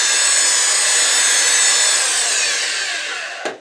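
Sandpaper worked across a spinning wooden piece on a lathe running at about half turning speed, a loud continuous rasping hiss that fades and cuts off as the paper lifts away.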